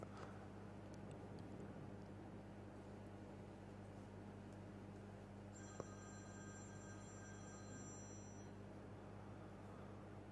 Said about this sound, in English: Someone's phone dinging in the background.